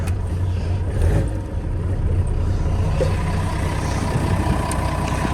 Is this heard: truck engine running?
yes